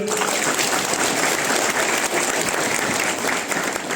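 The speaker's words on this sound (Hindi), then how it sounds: "एक बार ताली हो जाए" Sustained, dense applause from an audience at a company founding day celebration, a loud, even wash of clapping lasting the whole stretch with no voices over it.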